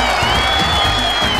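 An online audience at a Teach to Reach Connect session cheers and applauds loudly and steadily, with a crowd roar and some voices mixed in throughout.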